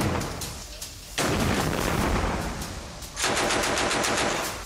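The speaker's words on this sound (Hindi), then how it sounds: "एंटी टैंक मिसाइल दागने वाले लॉन्च सेंटर्स पर जमकर गोलीबारी की जा रही है।" Gunfire in a war zone around anti-tank missile launch sites near Khan Younis, with sustained bursts of automatic fire rattling loudly, pausing briefly twice before resuming.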